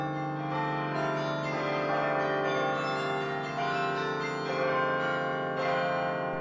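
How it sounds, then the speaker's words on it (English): A church bell rings in the animated Hunchback of Notre Dame film, with sustained, resonant metallic tones layered into a loud, continuous wash that swells and fades slightly over several seconds, with no talking. "Ding dong, ding dong, ding dong. If I were a bell, that's what I'd go."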